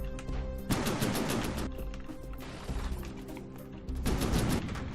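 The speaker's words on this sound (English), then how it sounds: "There's a big cannon there. It's trying to shoot the planes" A big cannon firing at planes in the naval combat game From the Depths, heard as loud, rapid repeated blasts in dense bursts over a rumbling battle din, with no voices.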